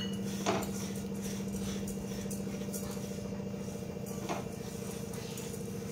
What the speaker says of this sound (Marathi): आता यामध्ये आपण ही भगर टाकून घेऊया आणि फक्त 2 मिनिटांसाठी आपण ही परतवून घेऊ।